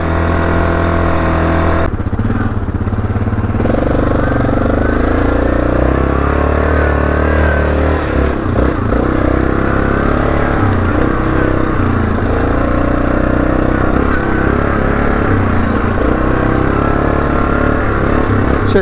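Yamaha Grizzly 660 ATV engine while riding on back roads, a loud continuous drone that holds steady with slight pitch shifts and a brief dip early on, close and alone.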